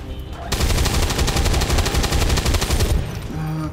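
A sustained, loud automatic burst of gunfire from the XCOM 2 video game, rattling rapidly for about two and a half seconds before cutting off, followed by quieter game sounds.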